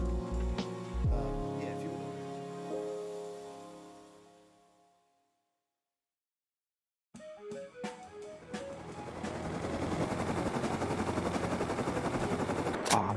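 An AK rifle in Rust fires a sustained, dense burst of rapid automatic shots after a brief silence. The firing is loud and continuous, and a fading tone plays before it.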